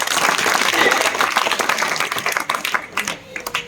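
A large audience claps loudly and densely at a Shiv Jayanti celebration in Talni, Nanded district, the applause gradually thinning into scattered claps near the end.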